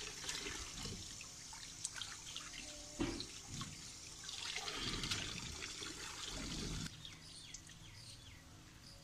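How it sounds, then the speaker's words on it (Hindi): Garlic is rinsed under running tap water in a sink, a steady splashing and trickling stream with intermittent sloshes and clinks as the cloves are handled, close and continuous for several seconds. "पानी से अच्छे से साफ कर लिया है, इसकी मिट्टी अच्छे से उतर गई है।"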